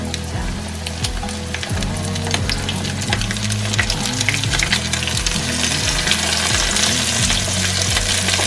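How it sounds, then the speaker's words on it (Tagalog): Floured fish fries in hot oil in a home kitchen, giving a loud, continuous bubbling sizzle with crackling spatter throughout and a low rhythmic hum underneath. "magpiprito muna tayo ng isda"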